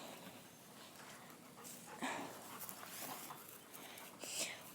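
A farm dog pants quietly at a distance, soft rhythmic breathy huffs with a few faint whimpers and small knocks, low level throughout.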